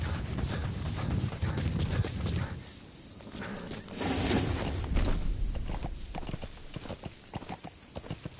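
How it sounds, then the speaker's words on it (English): A horse's hooves clip-clop in an uneven rhythm in the video game Metal Gear Solid V: The Phantom Pain, close and fairly loud, with rumbling movement and brief pauses between bursts of trotting. "Climb on the horse."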